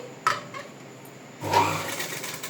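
Sewing machine stitching piping onto the front of a blouse, a short burst of motor whir near the start, then a sustained louder run of stitching that continues to the end.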